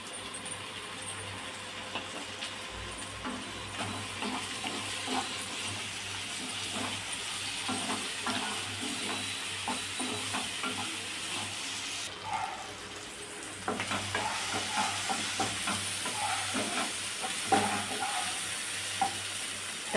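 Tomatoes and onions sauté in a pan, giving a soft, continuous sizzle and hiss with scattered light stirring clicks that lift a little partway through, fairly quiet and with no voices.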